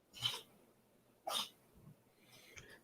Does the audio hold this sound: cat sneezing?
yes